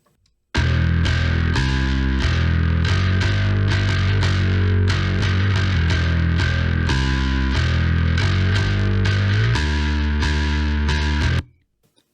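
A heavily distorted bass riff plays continuously for about eleven seconds, thick and gritty with a solid low end, then cuts off abruptly.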